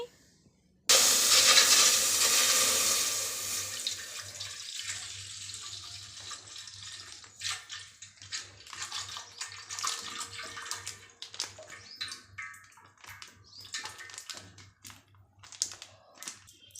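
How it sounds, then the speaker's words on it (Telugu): Water poured into a pot of milk on the stove starts with a sudden loud gush that gradually tapers into a gentler trickle, followed by light clatter and faint bubbling; no voices. "ఇందులో ఒక రెండు గ్లాసుల వరకు నీళ్ళు పోసుకుందాం"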